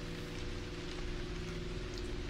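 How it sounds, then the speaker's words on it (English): Steady rain falls in the A Quiet Place video game, a soft, even hiss of drops on surfaces that stays constant and faint throughout with no voices. "Still raining though, man."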